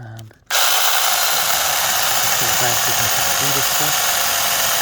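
A small handheld battery chainsaw starts with a sudden loud, steady high whine and cuts through a tree branch close by. A brief voice comes just before it starts.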